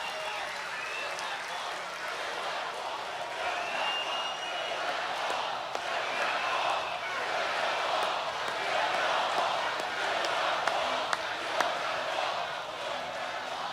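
A large crowd at a Donald Trump political rally in Golden, Colorado keeps up a dense, steady roar of cheering and shouting from a distance, with scattered claps and whoops and no break in the noise.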